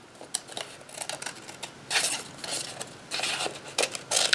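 Scissors snip through paper while cutting flower petals for a craft, giving a run of short crisp cuts and rustles, some bursts louder and longer, close up with no talking.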